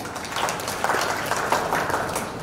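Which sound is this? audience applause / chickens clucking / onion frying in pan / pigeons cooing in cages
audience applause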